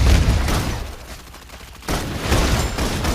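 Rapid gunfire bursts from the video game Love and Deepspace, loud and dense, with a brief lull in the middle before the volley resumes at full intensity.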